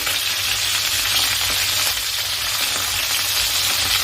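Pointed gourd pieces seasoned with salt and turmeric fry in hot oil, a dense, loud, continuous sizzle that holds evenly from start to finish with no voices.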